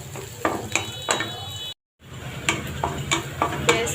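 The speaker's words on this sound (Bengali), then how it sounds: "পেঁয়াজটা একটু ভাজা হয়ে গেছে" Onions frying in a pan on a home stove give a soft sizzle, broken by a series of sharp, regularly spaced scrapes and clinks from stirring, with a short silent gap partway through.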